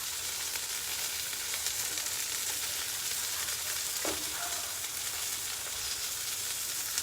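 Alfredo sauce sizzling steadily on a hot Blackstone flat-top griddle while being stirred, a continuous close hiss with a brief scrape of the utensil partway through.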